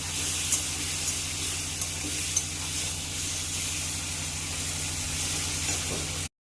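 Shrimp frying in a wok for a Bengali Malabar spinach and shrimp curry, with a loud, steady hiss of sizzling oil and occasional faint stirring clicks, heard alone until it cuts off abruptly.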